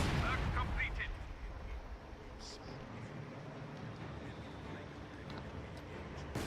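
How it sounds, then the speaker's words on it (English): A howitzer artillery barrage pounds in the video game Company of Heroes 2, heard as a dense rumbling roar with muffled blasts that is loudest at the start, then holds steady underneath. "pretty much howitzer barrage, which is going to start pounding them"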